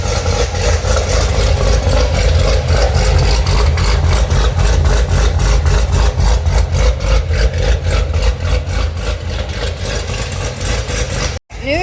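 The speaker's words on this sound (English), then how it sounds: "So listen to that cam chop." A Chevrolet Corvette C7 with a new exhaust idles with a lopey, choppy cam rhythm, steady and loud close to the engine throughout, with a brief cut near the end.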